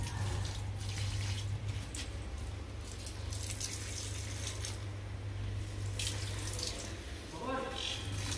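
Running water pours steadily from a tap or hose while garden plants are being watered, a continuous close splash with a low hum underneath and a few louder spatters near the end.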